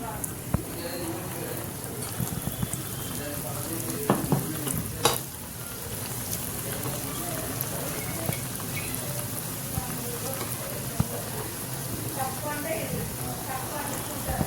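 Poornam booralu, dumplings dipped in batter and spooned into hot oil, sizzling and crackling continuously with occasional spoon clinks, while someone speaks over the frying.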